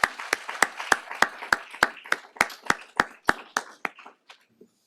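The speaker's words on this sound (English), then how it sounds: "let's give another round of applause for all of our wonderful speakers today." Small audience clapping for conference speakers: a sparse, evenly spaced series of sharp claps, fairly close and clear, slowing and thinning out before stopping.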